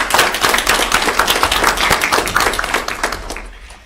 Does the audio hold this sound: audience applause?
yes